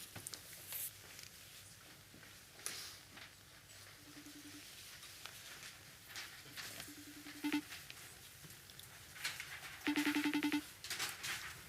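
A FaceTime call rings out while waiting for two students to pick up, with short repeated tone bursts that grow louder toward the end over faint room noise and small handling sounds.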